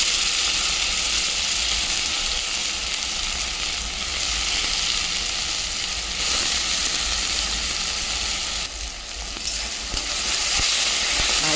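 Chopped banana blossom with onion, garlic and tomato fries in a pan, a loud continuous sizzle with soft scraping as it is stirred, close by and without voices.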